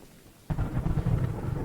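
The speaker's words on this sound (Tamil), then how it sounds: "இடி இடிக்குது, பயங்கரமாக சவுண்ட் கேட்குது" Thunder in the Choo Choo Charles video game: after a quiet start, a sudden loud crack gives way to a deep rolling rumble, with rain hissing faintly beneath it.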